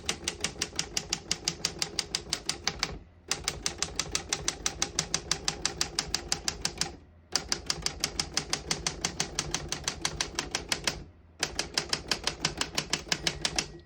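Rapid, even keystrokes on a 1940 LC Smith Super-Speed manual desktop typewriter, sharp mechanical clacks in four long runs separated by brief pauses for the carriage return.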